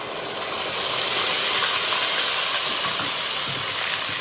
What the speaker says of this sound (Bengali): এই তেলের মধ্যে এটা দিয়ে দেবো পাটায় বেটে রাখা মশলাটা আমি দিয়ে দিলাম